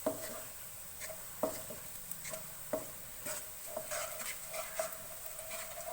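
Green chicken curry masala with cumin being stirred in a pan over a medium flame, a soft sizzle running throughout with irregular scraping and clinking taps of the spoon against the pan.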